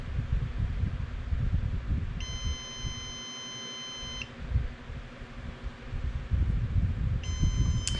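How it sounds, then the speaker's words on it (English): Two long, steady electronic beeps from a rocket launch controller with no charges connected, the first lasting about two seconds and the second starting near the end, over low rumbling background noise. "the long beeps are basically letting me know that there are no charges hooked up to it"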